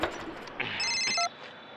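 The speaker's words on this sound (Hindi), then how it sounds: "फोन बज गया।" A telephone bell rings in a short, bright electronic burst partway through, standing loud and alone after a brief clatter, with no talking over it.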